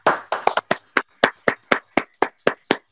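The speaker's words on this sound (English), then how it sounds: "give a round of applause to all of the honorees tonight" Hand clapping for honorees at an evening policy leadership celebration, a sparse, evenly spaced run of about a dozen sharp claps, close and fairly loud, with no talking.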